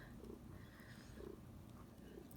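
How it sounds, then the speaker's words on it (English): A pet cat purrs very loudly right next to the microphone, a soft continuous rumbling with faint rhythmic pulses, quiet overall. "your purring is very loud"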